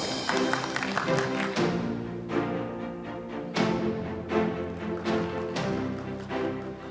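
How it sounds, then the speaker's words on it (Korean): An audience at a 2021 carbon-neutrality forum applauds to welcome a speaker, with bursts of clapping that swell and ease in waves, close and fairly loud. "환영의 박수를 좀 부탁드립니다"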